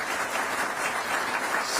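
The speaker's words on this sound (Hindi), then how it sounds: "उपराष्ट्रपति जी का भी बहुत आभार प्रकट करिए ताली बजा करके आप।" An audience at a Sindhi-language Constitution release event with Vice President C.P. Radhakrishnan claps steadily, a dense, even wash of applause throughout.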